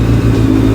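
A 2003 Honda CBR F4i sport motorcycle engine runs loud and close, a steady idling rumble with a slight rise in revs throughout the short moment.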